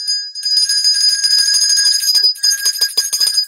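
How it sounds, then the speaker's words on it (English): A bell rings loudly and steadily, with rapid repeated tinkling strikes over a sustained metallic ring throughout. "I gotta ring the Ed Norton bell."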